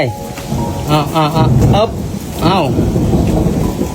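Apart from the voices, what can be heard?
rain and thunder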